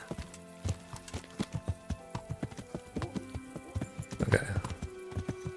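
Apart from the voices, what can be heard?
horse Pebbles hooves in Kingdom Come Deliverance video game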